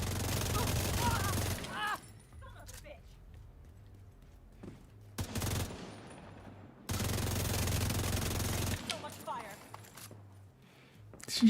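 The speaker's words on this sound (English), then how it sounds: "Oh, some shooting." Two bursts of distant gunfire, each lasting a couple of seconds, separated by a quieter stretch with occasional voices and sparse background sounds.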